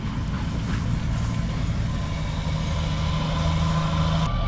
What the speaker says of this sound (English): I hear a dump truck coming.